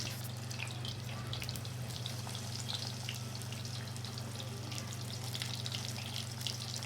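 Brinjal bajji frying in oil, a steady soft crackle and sizzle with scattered pops over a low constant hum.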